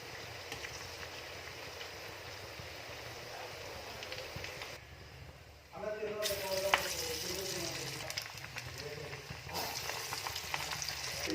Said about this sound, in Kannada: ಈ ರೀತಿಯಾಗಿ ಎರಡೂ ಕಡೆಯಲ್ಲೂ ವಡೆನ ಬೇಯಿಸ್ಕೋಬೇಕು ಎಣ್ಣೆಯಲ್ಲಿ.